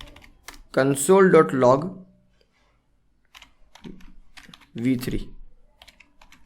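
Keys clack on a computer keyboard as JavaScript code is typed, short soft clicks in the pauses between a man's speech, which dominates the clip.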